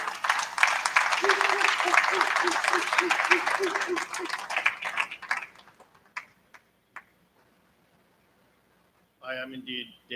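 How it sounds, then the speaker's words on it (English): A room of people at a guild council meeting applauds a newly introduced secretary treasurer, dense clapping that thins and fades out after about five seconds, leaving a few scattered claps before a voice starts speaking. "Let's give him another round of applause."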